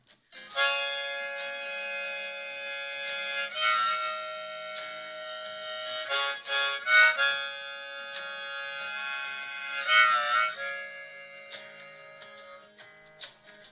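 Harmonica playing a solo with a backing overlay, sustained bright chords and bends swelling and breaking off in short bursts, up close and clear, no voices.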